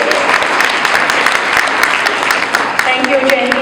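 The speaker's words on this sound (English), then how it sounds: "Give yourselves a huge round of applause." Audience at a community event applauding, steady and loud sustained clapping from a sizable crowd throughout, with faint voices mixed in.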